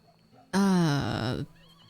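A horse whinnies once, loud and close, standing in a group that includes a grey horse and a sandy-coloured one. The call is a rising, wavering neigh of about a second that breaks into a rough, fluttering tail over quiet background.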